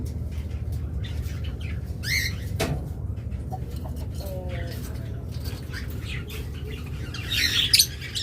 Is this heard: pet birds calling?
yes